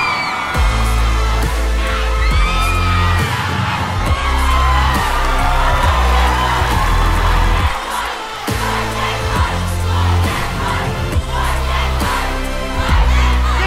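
A studio audience at a televised music competition show cheers and whoops loudly and continuously, with crowd noise sustained throughout over steady, booming stage music.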